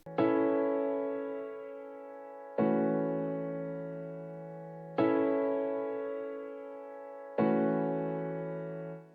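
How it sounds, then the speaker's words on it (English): Four sustained lo-fi piano chords from a Lofi Piano plugin, each struck about every two and a half seconds and left to decay, rich and warm, playing alone with no voices. "So I added another layer to the chords with this plugin called Lofi Piano,"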